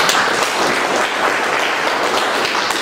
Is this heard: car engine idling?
no